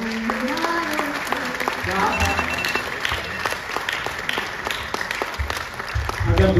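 Audience applause at a Hindi humorous poetry recital (kavi sammelan), dense steady clapping lasting several seconds with voices talking over it and some low rumble near the end.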